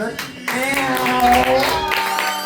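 Audience at a live open mic night claps for the DJ, a short burst of applause rising after a brief pause, heavily overlapped by a loud voice and music.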